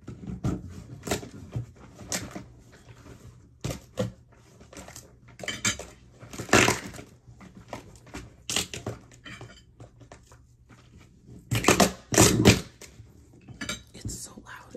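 A heavily taped package box is pried and torn open up close, with irregular crinkling rips, cardboard scrapes and thumps over about fifteen seconds, and faint whispered speech in places.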